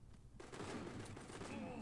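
Shotgun blasts in the mobile shooter Guns of Boom, a loud burst of gunfire erupting after a brief quiet and sustaining as dense, close firing with some voice mixed underneath.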